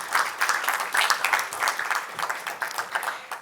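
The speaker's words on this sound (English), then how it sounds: "So let's do a round of applause." An audience at a business forum panel gives steady, moderately loud applause with distinct overlapping claps, heard alone without talk.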